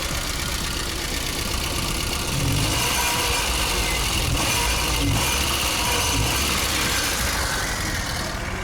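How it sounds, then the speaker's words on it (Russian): A VAZ-2109 car engine idling roughly and misfiring, a dense continuous mechanical rumble with uneven knocking pulses, loud and close, no voices. "Тачка просто троит, не набирает даже обороты нормально."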